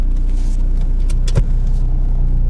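Volkswagen Passat B4 heard from inside as it drives, a loud steady low engine and road drone with a brief clunk partway through and no speech.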